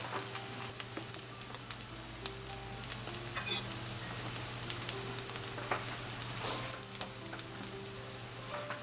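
Rotisserie chicken toast roll ups fry in a pan with a steady, even sizzle that crackles continuously beneath soft background music.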